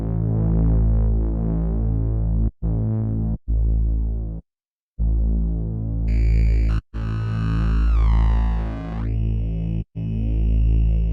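A thick, buzzing Reese bass drone from a synthesizer with built-in gritty distortion, sustained notes broken by brief silences, with a sweeping filtered tone rising in partway through.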